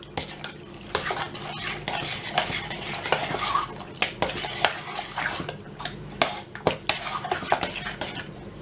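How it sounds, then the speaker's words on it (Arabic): A spoon stirs pesto into cannelloni filling in a pan, making repeated close scraping and clinking strokes in an uneven rhythm over a faint sizzle, with no talk. "انا نزيد برشا هكا بستو ونخلطو."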